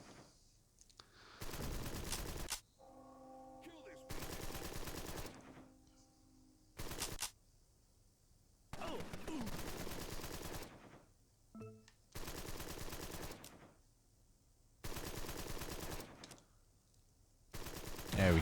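Bursts of video game machine-gun fire during turn-based combat in Empire of Sin, several loud sustained volleys separated by short pauses with faint game sounds between.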